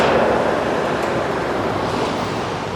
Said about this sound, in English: Sorry about the fan, hold on.